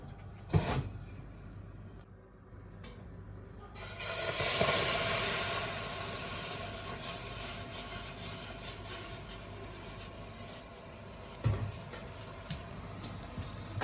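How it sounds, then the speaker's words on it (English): Boiling water poured into a hot oven preheated for baking bread gives off a loud burst of steam hiss lasting a couple of seconds, then fades into a softer, steady hiss. Sharp clatters of the pan or oven sound before and after. "And now we need to add that boiling water."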